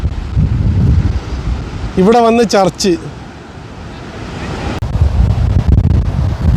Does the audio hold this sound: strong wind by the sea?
yes